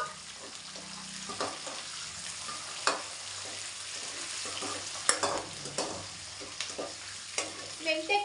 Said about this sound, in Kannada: ಮೆಂತ್ಯ ಕೆಂಪುಗಾಗೋವರೆಗೂ ಹುರ್ಕೊಬೇಕು ಅಷ್ಟೇ